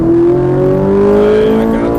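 A Ferrari 458 Italia accelerates hard on a race circuit, its engine a loud, steady, rising drone heard from inside the car for two seconds.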